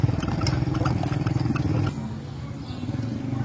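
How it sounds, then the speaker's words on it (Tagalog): Motorcycle engines rev and rumble on a climbing road in Quirino, Ilocos Sur, a close throaty clatter that eases after a couple of seconds into a lower steady drone. "Lakas yung mga motor dito mga idol."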